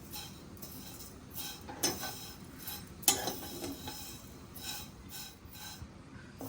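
Dry sev vermicelli is roasted in a pan without ghee, giving a faint steady rustle with light intermittent clinks and scrapes of a spatula against the pan.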